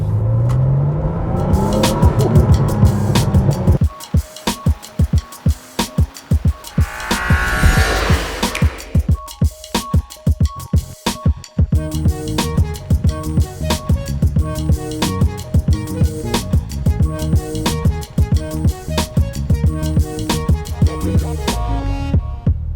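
A Porsche 964 Turbo being driven, its engine loud and close with repeated rises and drops in revs and sharp gear changes, a rapid pulsing engine note running throughout.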